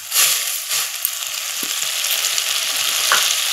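Sugar and a little water bubble and hiss in a wok on the way to a syrup, a bright steady sizzle with a few soft clinks and scrapes.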